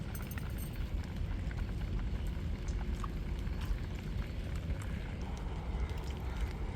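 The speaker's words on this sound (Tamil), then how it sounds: "மழையை பாருங்கள் ஊற்றுது." Heavy rain pours down steadily outside a home, a dense, constant hiss and patter with no pauses and no voices.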